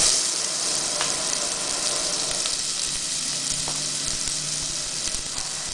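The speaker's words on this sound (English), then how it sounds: "Wait until the pan is hot, and then add the paste." A coriander, garlic and white pepper paste fries in a hot pan for Thai sago balls with pork filling, a loud, even, continuous sizzle close by, with a faint scrape now and then.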